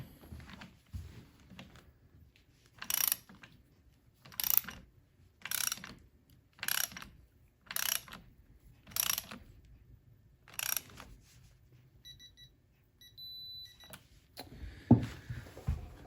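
A torque wrench ratchets in short, separate bursts, about eight clicking pulls spaced roughly a second apart, while tightening a cam on a Can-Am 975 big bore engine; the work is close and fairly quiet, with faint metallic clinks between the pulls.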